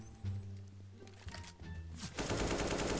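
Rapid automatic gunfire in a shooting video game, quiet bursts followed by a denser, louder stretch of shots, with no talk over it.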